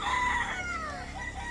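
An eight-month-old roundhead x Gilmore gamefowl rooster, a pumpkin cross, crows once in a long, loud, drawn-out call heard alone and up close.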